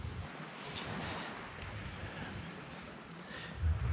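Sea waves wash continuously along the waterfront in Petrovac, Montenegro, a broad, steady surf hiss mixed with light wind, with no voices.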